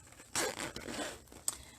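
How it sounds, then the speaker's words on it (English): A zipper on an embroidered fabric bag is pulled open in two short rasping strokes, close and quiet, with a faint scrape and click between them. "So I open the zipper"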